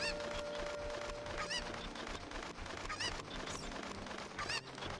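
Repeated squawking clucks from a Cuckoo chicken in The Legend of Zelda: Ocarina of Time on the N64 sound several times over a dense, continuous bed of game music and ambience.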